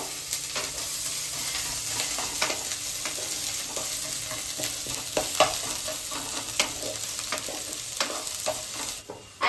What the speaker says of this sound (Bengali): কেটে রাখা পেঁয়াজগুলো এর সঙ্গে দিয়ে দেবো, দিয়ে একটু খানিকক্ষণের জন্য নাড়াচাড়া করবো।